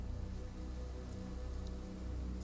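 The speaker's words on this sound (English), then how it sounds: "Wait, I would prefer it not to be raining. Oh well, it's going to be raining." Steady rain falling over a battlefield in the strategy game A Total War Saga: Troy, a faint, even hiss of drops with no gaps and no voices.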